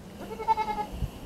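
A goat in a kidding pen gives a short, close bleat lasting about a second, wavering in pitch over quiet background.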